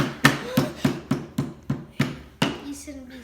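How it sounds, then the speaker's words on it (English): Repeated blows of a toy hammer smashing Play-Doh, eight or nine sharp dull thuds at a steady rhythm, close and fairly loud, with a voice briefly at the end. "You shouldn't be smashing Play-Doh."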